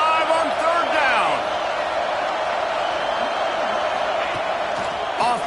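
A packed Ohio State Buckeye football stadium roars steadily on a third down, the dense crowd noise holding loud throughout while a commentator talks over it.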